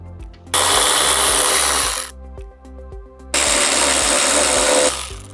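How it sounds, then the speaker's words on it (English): A power tool removing the bolts on a 2024-2026 Harley-Davidson Road Glide whirs loudly in two sustained bursts of about one and a half seconds each, with a brief quieter gap between them, close up. "Next, we're going to remove the 4 1/2-inch bolts."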